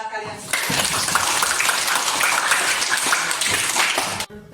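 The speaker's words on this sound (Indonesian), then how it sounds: "Tepuk tangan buat kalian semua." A school class applauds the students, a brief burst of close, rattling clapping that starts abruptly, holds at a steady level for a few seconds, then cuts off.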